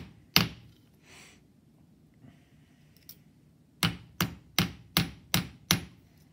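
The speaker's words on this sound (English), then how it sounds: "I am using the bigger hammer because I am forming" A big hammer strikes thick metal being formed, with a couple of isolated blows followed by a steady run of six loud, evenly spaced metallic thuds close by, and no speech.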